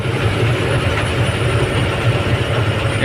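A freight train at a rice unloading point rumbles steadily nearby, with a constant low drone and faint rhythmic clatter of wheels, and no voices.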